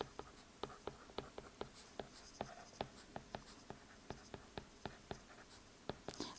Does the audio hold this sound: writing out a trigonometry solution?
yes